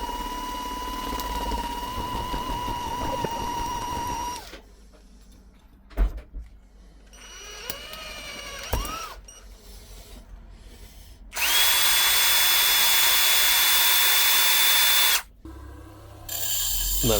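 A power drill with a sharp bit whines loudly in long bursts boring through stainless steel, its motor pitch shifting under load, with quiet pauses and clicks in between.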